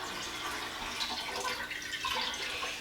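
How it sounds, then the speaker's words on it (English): A brined turkey lifted out of its water bath, close splashing and dripping water with a running, trickling wash of liquid throughout, fairly soft and without talk. "I'm going to pull it out of the water"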